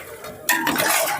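Chicken pieces are stirred in hot oil in a pan, with a spoon scraping and clinking against the metal over a soft sizzle, close and brief.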